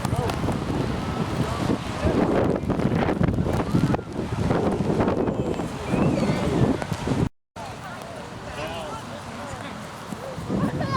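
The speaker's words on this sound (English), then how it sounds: "there's that wind there we're talking about." Gusty wind buffets the microphone at an outdoor youth soccer game, a steady loud rumble that briefly cuts out, with coaches and spectators shouting in the background.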